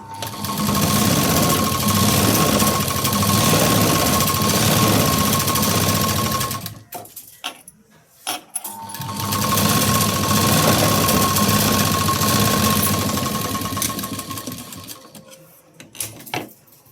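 A sewing machine runs two long bursts of understitching along a sleeve lining, loud and close, with a short pause between runs and a brief stop near the end.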